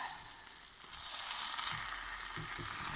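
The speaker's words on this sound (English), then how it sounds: "now I'm going to take out the foil and give it a stir." Basmati lamb biryani stirred in a pot, a soft hissing sizzle with light scraping and shuffling of rice, steady and close, with no voices.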